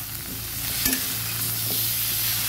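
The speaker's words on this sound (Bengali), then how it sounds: "এবার ভালো করে নেড়ে দেবো।" Vegetables fry and are stirred in a pan: pumpkin, drumsticks, tomato and green chillies. A loud, continuous sizzle carries throughout with a low steady hum beneath it and a few scraping bumps, and no voices.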